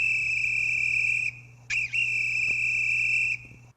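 Roku TV remote finder chirping from the remote, two bursts of high electronic beeping tones with a short warbling break between them, near and clear over a low hum.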